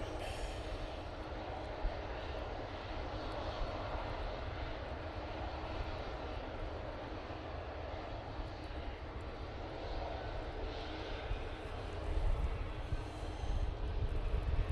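Airliners, including Aer Lingus and Virgin Atlantic jets, taxi at Manchester Airport on a windy day, their engines a steady distant roar with wind buffeting, swelling louder near the end.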